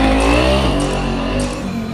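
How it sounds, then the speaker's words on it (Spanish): Car engines rev in the Free Fire video game. The motor tone is loud and sustained, with its pitch sliding up and down, close and steady for the whole two seconds, with no talk. "Los motores no dejan que uno grabe nada"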